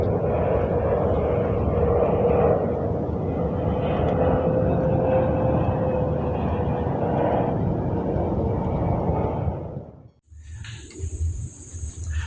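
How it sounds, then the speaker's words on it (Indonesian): An airplane landing at Ngurah Rai airport in Bali, heard from a mangrove forest nearby as a steady broad roar that holds loud for about ten seconds and then drops away sharply. Insects keep up a continuous background drone. "Di situ ada pesawat yang lagi landing"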